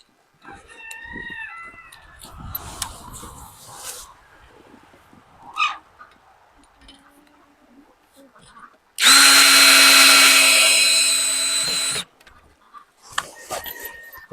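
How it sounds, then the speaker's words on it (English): A power drill drives screws through T-post holes into skids while building a simple barricade, a loud steady whir lasting about three seconds, with a rooster crowing and a person talking faintly around it. "putting a couple screws in to the T-posts and attach them to the skids"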